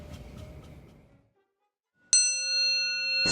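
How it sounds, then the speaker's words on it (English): A bell is struck once with a sharp metallic strike and rings on with a clear, sustained tone. Just before it, some brief, faint clatter fades into near silence. "Studying the vibrations of large and small bells helps us understand the sounds of one of the world's oldest musical instruments"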